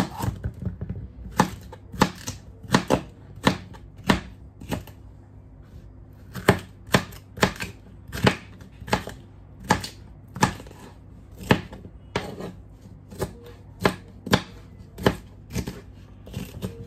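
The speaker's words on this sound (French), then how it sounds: "je vais couper aussi le poivron" Quick, crisp knife chops through red bell pepper on a cutting board, coming in fast bursts of sharp taps with short pauses between runs, close and clear with no talking.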